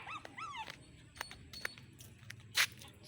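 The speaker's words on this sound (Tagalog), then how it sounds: "May aso." A dog whimpers and yips at night outside a house, with a few high rising whines near the start, then scattered short yelps and a brief sharp noise amid faint background hum.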